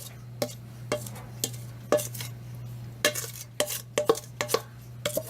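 A spoon stirs coleslaw in a bowl, clicking and scraping against the sides in irregular strokes that speed up toward the end, over a steady low hum.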